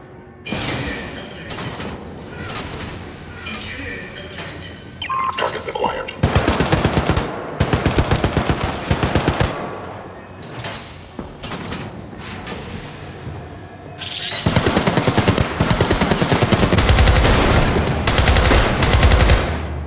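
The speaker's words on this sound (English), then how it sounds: "Gunfire up ahead." Gunfire in the video game Syndicate: repeated bursts of rapid automatic fire, loud and close, with mechanical clanks and door-like sounds between the volleys.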